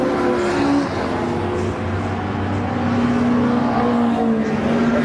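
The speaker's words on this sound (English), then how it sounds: "They are racing around the Brands Hatch Indy circuit as well." Race cars in CTC Thunder and BOSS qualifying at the Brands Hatch Indy circuit give a loud, steady engine roar as they pass close by, with the drone rising and falling slightly throughout.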